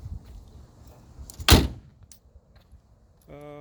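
A car door opens with a single sharp clunk of the latch near the middle, amid soft rustling and handling noises, followed by a short chime at the end.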